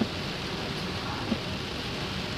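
Steady rain falls during a storm chase with a hail core nearby, a dense, even hiss close by with no distinct drops and no talking.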